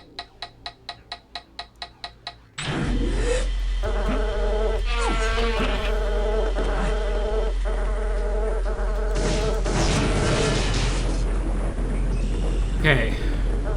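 An insect buzz like a mosquito's whines from the video game Daikatana, following a few rhythmic ticks. The drone is steady and close for most of the stretch, with game sounds over it and voices talking underneath.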